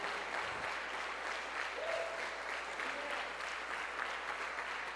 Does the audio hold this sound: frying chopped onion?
no